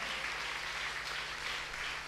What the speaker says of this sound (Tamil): நல்ல ஒரு கைத்தட்டு கொடுக்கலாமா?